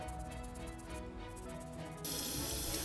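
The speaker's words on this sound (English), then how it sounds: "We'll give the vest another spritz of hairspray." Hairspray is spritzed onto the vest of a 1994 Cut n' Style Barbie doll. Close and faint, a steady hiss runs throughout and grows slightly louder and brighter toward the end.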